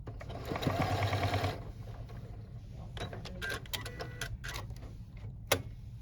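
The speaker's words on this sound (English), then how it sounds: "lengthen your stitch a little bit because you're sewing through several layers" A sewing machine stitches through several layers of fabric for a key fob wristlet, running in a steady close burst at the start, followed by softer clicks and handling taps as the work is adjusted.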